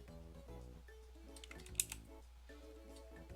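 Someone types on a computer keyboard, producing soft scattered key clicks with one sharper tap, faint and close, beneath a steady musical hum in the background.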